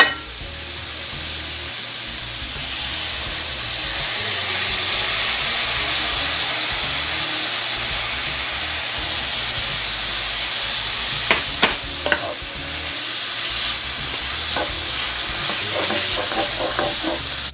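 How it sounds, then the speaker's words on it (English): Food sizzling loudly in rendered beef fat for a shepherd's pie, a dense continuous hiss with a few sharp clicks and pops near the pan midway through, no speech. "we're just going to let those go in that beef fat for a little bit"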